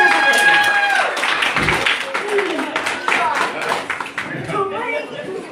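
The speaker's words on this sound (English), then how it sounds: "How about a big round of applause?" Guests at a birthday party clap and applaud, a scattered, uneven patter of hands that thins toward the end, mixed with people talking and calling out over it.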